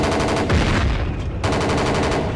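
Rapid automatic gunfire rattles loud and close in the Battlefield Yugoslavia game, a dense continuous burst that pauses briefly and then resumes with heavy low thuds underneath.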